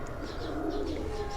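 Pigeons on the rooftop of Akmal Khan's house in Pindi Bhattian coo softly and repeatedly against a steady background hum, fairly close and moderately quiet, with no clear speech.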